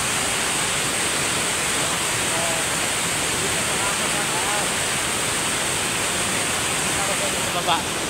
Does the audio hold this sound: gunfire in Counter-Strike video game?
no